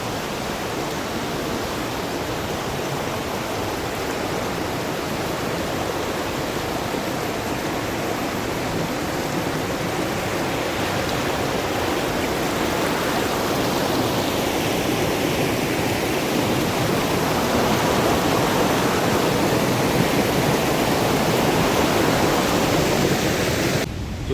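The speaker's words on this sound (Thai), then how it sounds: "ก็จะเป็นน้ำไหลเร็วมากเลยแรงด้วย" Fast, powerful water pouring down a waterfall in Tat Ton National Park, Thailand, heard up close as a loud, continuous broadband roar that holds steady for the whole stretch with no voices.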